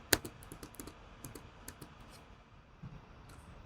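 A computer keyboard's tab key gets tapped during page navigation, giving a few sharp, quiet clicks, one louder at the start and then lighter taps spread out in a quiet room.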